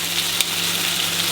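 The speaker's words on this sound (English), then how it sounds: "See, the bacon's cooking up nice. This Japanese bacon, so it's a little bit different" Japanese bacon sizzles in a frying pan, a close, loud and steady crackle with a faint tick partway through.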